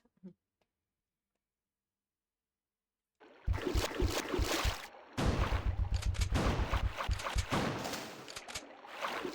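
Repeated gunshots in Resident Evil 2 (1998), fired at close range while Leon fights enemies. After a silent start, a steady burst of loud sharp shots begins, pauses briefly, then resumes in a dense, rhythmic volley over game noise.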